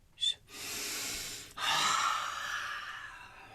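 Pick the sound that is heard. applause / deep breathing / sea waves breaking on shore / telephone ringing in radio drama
deep breathing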